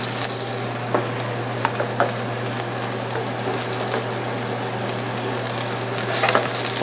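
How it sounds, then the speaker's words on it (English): Shallots and garlic frying in olive oil for a lobster bisque, a dense, continuous close sizzle with a low steady hum underneath and occasional faint ticks of a utensil, with no talking. "now we're going to add some olive oil before we put in our shallots and garlic"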